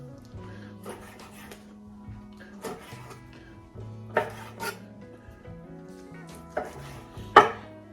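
Lamb flap meat being cut into bite-size pieces on a board, with irregular knife chops and scraping strokes spread over several seconds, moderately close with a faint low hum behind, no speech.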